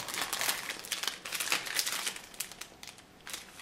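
Small packets of baking goods such as vanilla sugar and baking powder crinkle and rustle continuously as they are handled close by, with dense bursts of crackling plastic and paper and no voices.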